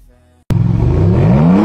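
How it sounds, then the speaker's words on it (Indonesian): Maserati luxury sports car engine bursting to life after a near-silent moment, then revving loudly and steadily with a rising pitch, close and powerful. "tapi juga punya suara mesin yang bikin merinding."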